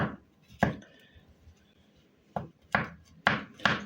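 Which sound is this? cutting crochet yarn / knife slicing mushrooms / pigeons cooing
knife slicing mushrooms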